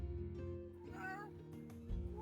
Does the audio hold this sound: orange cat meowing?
yes